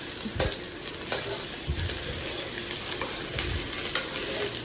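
Hot oil sizzles and spits steadily as pork adobo fries in a pan, with a few louder low clatters of stirring and utensil knocks breaking through the continuous crackle.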